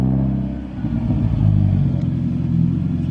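A freshly built Mazda Miata NB pulls away on its first drive, its engine rumbling close by and building as it accelerates, with a slight clatter.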